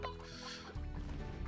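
Chickens in the Slime Rancher video game cluck in a brief, low, busy flurry, fairly close and moderately loud, with game sounds behind.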